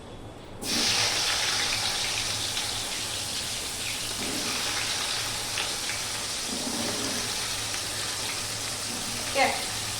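Diced potatoes and onions hit hot oil with a sudden loud, steady sizzle and crackle that holds for several seconds, a few soft clunks and a voice faintly underneath.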